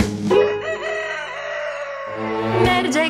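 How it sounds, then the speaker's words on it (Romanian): A loud, close rooster crow rings out within a children's cartoon song, its long harmonic call set against the music, with a second crow starting near the end. "Merge cocoșelul prin grădină."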